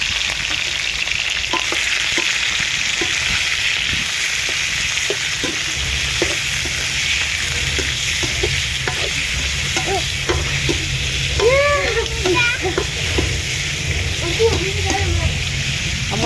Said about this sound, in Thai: คนก็จะมาเจียวกระเทียมนี่พี่น้อง ใส่หมูลงพี่น้อง